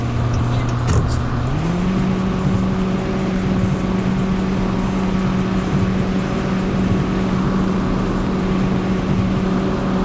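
A video game car, a Mitsubishi Outlander, speeds up toward top speed, its engine tone stepping up once early and then holding a steady high drone for the rest of the run, loud and continuous.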